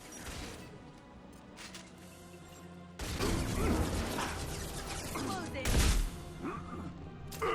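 Shotgun blasts and heavy impacts from combat in the Mass Effect 2 video game, with a loud burst of gunfire and crashing hits starting midway, layered over game sound and a talking voice.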